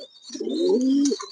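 Pigeons coo at a pigeon farm, one close, rolling call swelling and holding steady for about a second, loud and clear with no voices over it.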